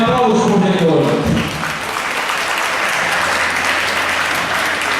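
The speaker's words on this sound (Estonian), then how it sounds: "aplaus publikul!" Audience applause at a dance sport competition swells into a sustained, dense clapping that fills the hall, loud and continuous after a voice ends over the opening.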